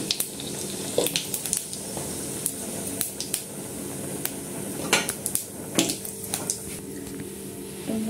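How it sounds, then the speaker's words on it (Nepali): Cumin seeds crackle and spit in hot oil in a pan while Nepali-style pasta is cooked, giving a steady fine sizzle with scattered sharp pops and faint clinks of utensils. "थोरै जिरा पड्काउँ तेलमा।"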